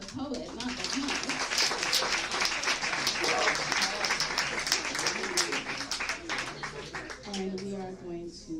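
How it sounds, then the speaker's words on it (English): An audience at a poetry slam claps loudly and steadily, a dense wash of applause that tapers off toward the end as a voice begins speaking. "Applaud the poet"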